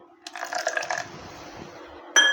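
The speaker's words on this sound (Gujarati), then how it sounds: "ઉપર થોડું પાણી એડ કરી" A small splash of water poured onto dhokla batter with Eno fruit salt, a soft brief trickle of liquid followed by a faint settling hiss, close and quiet with no talking.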